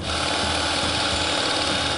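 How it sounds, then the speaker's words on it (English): A power drill runs continuously as a 7/8 inch bit bores a hole for a DIY candle holder, a dense steady whirring grind, close and loud with no talk. "First hole's going in."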